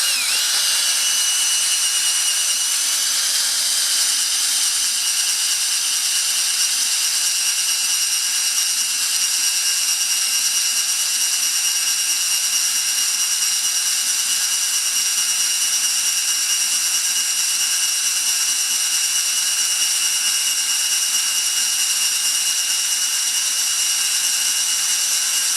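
A power drill whines steadily and close by, running without a break while boring near the rear axle of a Massey Ferguson 35X tractor.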